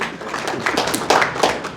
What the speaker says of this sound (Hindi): आपके लिए ताली बजाइए